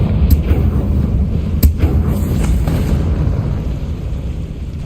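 A Confringo spell explosion in Hogwarts Legacy: a loud, dense rumbling burst with a couple of sharp crackling pops near the start and around the middle, then a sustained roar that tapers slightly over five seconds, with no talking.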